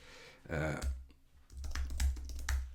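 Text is typed on a computer keyboard, with a rapid run of close key clicks following a brief stretch of talking.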